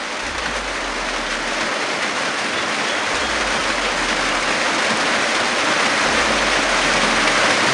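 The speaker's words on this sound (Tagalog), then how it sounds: "At malakas pa po yung ulan." Heavy rain pours steadily in a dense, loud hiss with no letup, a low rumble faintly beneath it.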